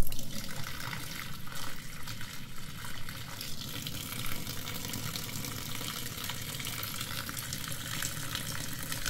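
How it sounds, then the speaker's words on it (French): Water drains through the open tap of a 10-litre VEVOR ultrasonic cleaner tank, a continuous soft splashing rush that stays fairly quiet and steady throughout. "Il suffit d'ouvrir le robinet."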